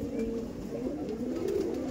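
An Andhra Madrasi pigeon coos softly in a loft, a brief low murmuring call over a steady background hum.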